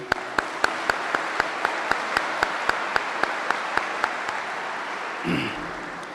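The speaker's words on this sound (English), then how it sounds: "Please, a round of applause for my very supportive family." Steady applause from a crowd at an Air Force base wing change of command ceremony, with a few sharp, regular claps standing out near the front, fading slightly before a brief burst of noise at the end.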